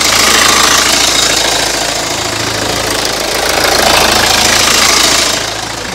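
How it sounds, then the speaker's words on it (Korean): Hyundai New Tucson ix with an R engine runs steadily at idle with the hood open, a loud, even mechanical hum with slight knocking texture throughout and no talking. "시동 걸어놨으니까 제가 엔진 소리까지 한번 제가 들려드리도록 하겠습니다."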